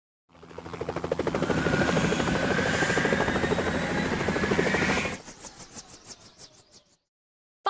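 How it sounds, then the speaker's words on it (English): A firefighting helicopter sound effect from a kids transport video game: loud, continuous rotor chop and buzzing engine whine for about five seconds, then fading rotor beats as it winds down, with no talking. "Firefighting helicopter."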